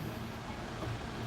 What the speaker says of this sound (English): that's a train coming in